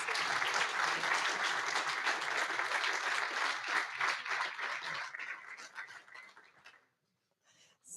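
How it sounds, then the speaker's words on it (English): Applause at the European Young Chef Award 2022 ceremony, a full round of clapping from the audience that fades and breaks off into silence, then a few faint claps return. "A round of applause."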